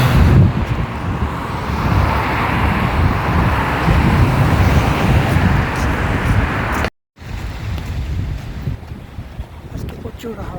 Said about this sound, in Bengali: আজকে প্রচুর হাওয়া বাতাস